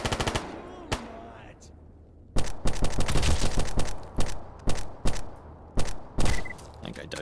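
Mac 10 submachine gun firing in a video game, several sharp close bursts of rapid automatic fire separated by short pauses, loud and crisp over faint game ambience.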